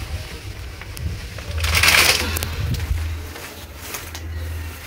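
A packet of banana chips drops and its contents crunch and crackle, with a burst of crushing noise in the middle over a low steady hum.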